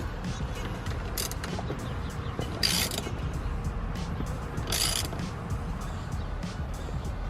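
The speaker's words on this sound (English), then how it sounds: "Now we're gonna go ahead and take our T45 and put that back in there. Make sure we tighten this bad boy down." A T45 bolt being tightened down on a Ford GT350R steering wheel, giving repeated close ratcheting and creaking clicks over a steady low hum, with a couple of brief louder bursts.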